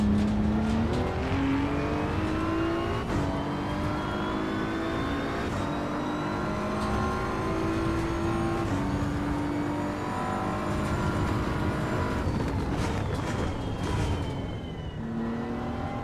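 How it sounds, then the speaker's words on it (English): A racing video game car with carbon ceramic brakes, heard as a steady engine drone with rising and falling tonal whines and a high brake whistle sliding in pitch, continuous and fairly loud with no talking. "That whistle that you hear, that's the carbon ceramic brakes"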